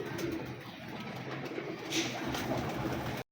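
Teddy pigeons in a loft coo in low, soft, repeated burbles, with faint background noise and no voices.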